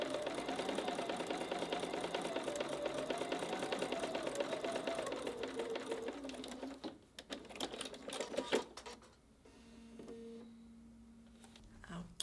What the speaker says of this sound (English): Sewing straight on that line.